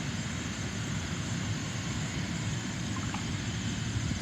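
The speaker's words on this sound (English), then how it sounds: "This could be a Learjet type here." A Learjet-type jet aircraft at Green Bay airport gives off a steady, fairly distant engine roar with a faint high whine above it. The sound is continuous and fairly quiet, with no talk over it.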